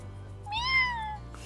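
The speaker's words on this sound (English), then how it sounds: "That is not a happy cat." A single upset cat meows in the video game Hakuoki, one drawn-out rising and falling cry, clear and close, with steady game background music underneath.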